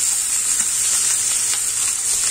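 Pork and Chinese cabbage (petchay) sizzle steadily in a frying pan, a loud continuous hiss with faint crackles and no voices.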